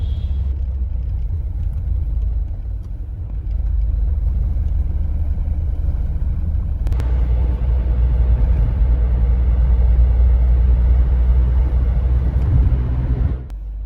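A car drives through morning traffic in Delhi, heading toward the airport area; a steady, loud low rumble of engine and road noise runs throughout with no talking.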